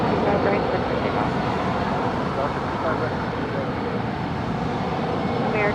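An airliner takes off from runway 25 right at LAX, a steady broad jet roar heard from a distance that holds at an even level throughout.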